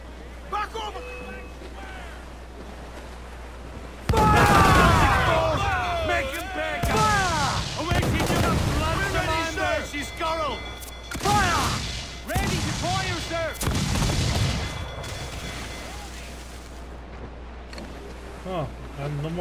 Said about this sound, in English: A cannon! Get out of range!